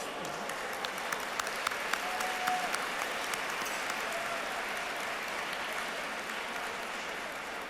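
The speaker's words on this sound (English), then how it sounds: "Please join me, give them a round of applause." Steady applause from a large audience at an Asian American business award dinner, a dense even wash of clapping that holds at a moderate level throughout without dying away.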